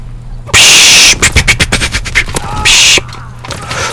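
Gunfire in a World War 2 shooter game: two long, loud bursts of sustained automatic fire with a run of sharp individual shots between them, close and dominant over the background.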